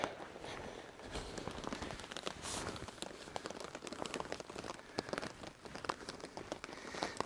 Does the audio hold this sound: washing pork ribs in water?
no